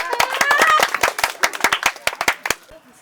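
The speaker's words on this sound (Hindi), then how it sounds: "चलिए जोरदार ताली मारिए इनको लिए।" An audience claps for a contestant at an outdoor football touch challenge. The clapping is short, with sharp, uneven hand claps that start dense and thin out over a few seconds, and voices sit faintly underneath.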